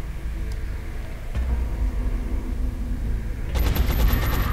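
Soldiers firing on an alien during an XCOM alien base assault: a low rumbling background, then a loud rapid burst of automatic gunfire near the end.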